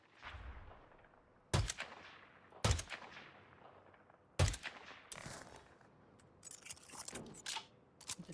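Sniper rifle shots in the video game HitGran, four sharp, loud reports spaced a second or two apart, each with a short echoing tail, followed by fainter clattering sounds.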